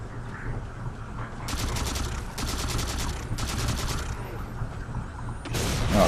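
Rapid gunfire exchange in the first-person shooter Halo 4 campaign, with several bursts of automatic fire crackling in quick succession over a low game hum, ending in a louder blast.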